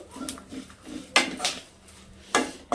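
Grated coconut going into a pan to roast over a low flame at home, with a few scraping clinks of a metal spoon against the pan and short stirring scrapes, close and fairly clear.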